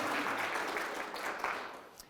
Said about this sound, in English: round of applause for our newbies